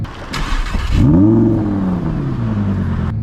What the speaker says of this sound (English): What a startup sound, right? That cold start.